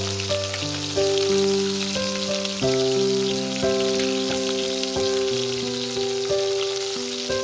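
A steady sizzle of bay leaves and mutton trotters frying in a pan, crackling continuously under background music with sustained tones.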